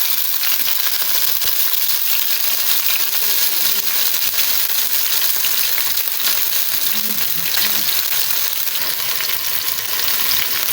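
Ginger, garlic and green chili paste frying in a pan, a loud, steady close-up sizzle with crackling pops and occasional stirring, no voices.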